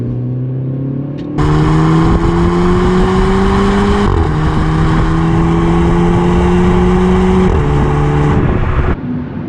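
A small 180 hp sports car in sport mode accelerates hard in third gear. The engine note is loud and close, climbing steadily in pitch through two brief shift dips before it cuts off near the end.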